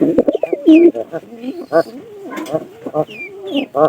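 Pigeons coo close by in repeated low, throaty calls, joined by a few sharper bird chirps and brief handling sounds, with no speech.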